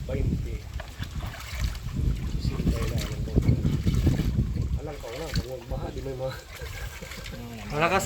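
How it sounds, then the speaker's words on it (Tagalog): Strong wind buffets the microphone in a steady roar, with water sloshing nearby and people talking throughout. "malakas ang hangin dito"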